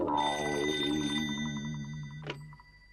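A telephone rings with a sustained electronic warble, close and clear, fading out after a few seconds.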